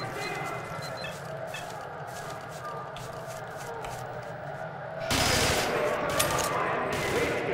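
Game gunfire in STALKER: Shadow of Chernobyl, rapid repeated shots under someone talking, then a louder dense burst of firing near the end.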